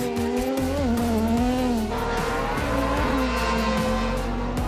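XC Crosscar race cars at the Bauska round of the FIA European Cross Car Championship, engines revving loud and close with a steady roar, pitch rising and falling as they accelerate, tires squealing through the turns.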